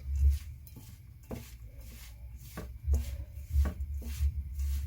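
Hands knead mince into croquette biscuit dough, producing soft, close rubbing and squelching with a few sharper taps and thuds spread unevenly across several seconds, and no voice over it.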